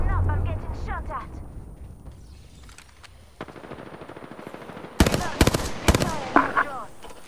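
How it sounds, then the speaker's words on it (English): Gunfire in the Apex Legends video game, softer scattered shots under game voices at first, then a cluster of loud, close bursts in the final seconds. "Listen up, I'm getting shot at!"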